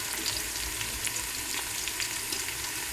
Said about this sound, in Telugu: ఆనియన్స్ అవన్నీ వేగుతూ ఉన్నాయి